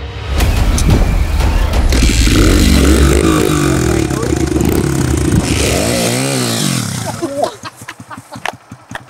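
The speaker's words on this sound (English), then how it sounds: "This is how you do a wheelie. Take the clutch." A motorbike engine revs loud and close during a wheelie, rising and falling in pitch before cutting out into clattering and scraping. Voices can be heard over it.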